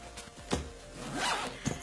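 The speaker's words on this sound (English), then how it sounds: "use that compression zipper" Compression zipper on an Eagle Creek packing cube filled with clothes being pulled closed, a close, loud run of rasping zip strokes with short pauses between them.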